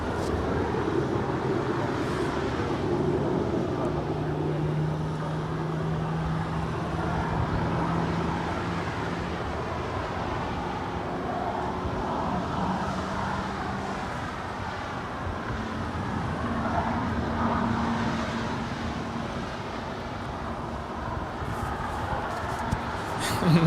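A JetBlue Airbus A321 arriving from Miami at LAX gives a distant, steady jet roar with engine tones, mixed with traffic hum and occasional talk.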